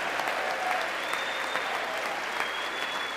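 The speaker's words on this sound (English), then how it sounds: "You see how the other Republicans are cheering?" Republican lawmakers at the State of the Union applaud in a broad, even roar of clapping from a large chamber crowd, with a faint whistle-like tone threading through.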